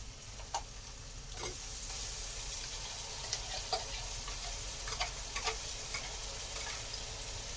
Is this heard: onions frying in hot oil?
yes